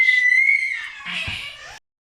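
A baby girl gives a short, high-pitched scream lasting under two seconds, loud and close, wavering then breaking off abruptly into silence.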